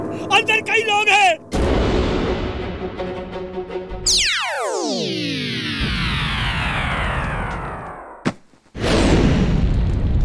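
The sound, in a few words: firecrackers exploding in a burning firecracker factory, cartoon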